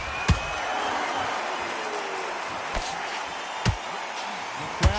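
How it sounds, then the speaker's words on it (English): Steady murmur of an arena crowd before a bout in the boxing video game Undisputed, with a few sharp thuds or slams cutting through the buzz at intervals. "The crowd here cannot wait. They've been buzzing all day long"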